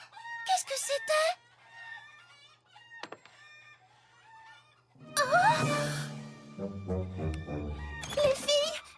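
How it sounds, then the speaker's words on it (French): Cartoon hens cluck and a rooster crows in bursts, with animated characters talking between and over the bird calls. "Fluttershy, tes poules se sont enfuies."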